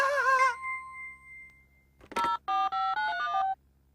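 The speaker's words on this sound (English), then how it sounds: "I'd better get on the phone to the builders." A telephone sounds in a quiet room, first a short warbling ring, then a brief rustle and a series of distinct electronic dialing tones in quick succession, clear and close with no talking.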